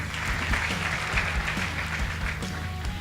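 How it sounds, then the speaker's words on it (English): An audience at a high school debate contest applauds, a steady close wash of many hands clapping for a few seconds, with faint murmuring underneath. "Let's give them a hand."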